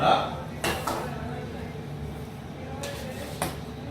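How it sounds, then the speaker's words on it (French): A utensil scrapes and clinks against a bowl while chocolate cream is folded into whipped cream for a chocolate caramel tart, with sharp taps near the start and again toward the end over soft kitchen background. "Et là, je mélange bien."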